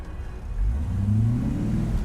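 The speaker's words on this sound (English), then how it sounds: "Let's put it in high gear and see if it slips." A Ford Mustang 5.0 engine revs hard in high gear with a slipping clutch, a steady loud low rumble that swells and holds near the car, with no talk.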